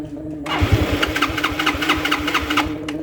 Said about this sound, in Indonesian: Kita sekarang coba starter motornya.